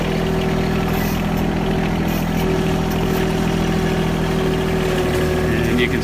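A vehicle engine running at a steady, loud, close idle hum with a constant low drone after being shifted into four-wheel drive while clearing old leaves, with a faint voice underneath.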